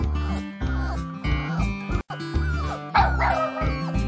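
A Mastiff dog barks in a series of loud, close, evenly spaced yips and barks, with one short gap midway and a brief whimpering edge to some calls.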